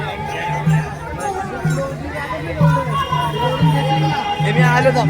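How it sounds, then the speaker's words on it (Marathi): A large crowd at a Wari pilgrimage procession in Chembur in the evening makes a dense, steady murmur, with someone talking close over the background hubbub and a rhythmic tone repeating underneath. "किती गर्दी आहे, अतिशय प्रचंड गर्दी, भक्तिमय वातावरण"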